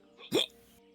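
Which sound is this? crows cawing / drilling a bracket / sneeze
sneeze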